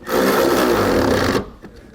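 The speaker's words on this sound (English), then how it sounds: "We're going to snug these bolts down." A tool snugs down the bolts of a Curt trailer hitch receiver on a 2016 Mercedes-Benz GLE in one loud, continuous grinding whirr lasting over a second, then stopping abruptly.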